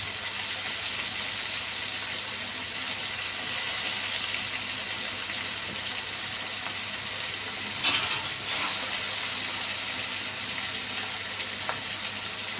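Tanjariya greens cooking in oil in a pan, a steady close sizzle and hiss running throughout with a brief louder stir or clatter midway.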